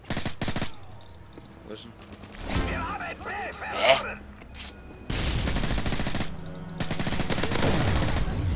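Suppressed MP7 submachine gun fire in the video game Call of Duty: Modern Warfare 3 multiplayer, several rapid bursts of muffled automatic shots with one spoken question partway through and game noise between.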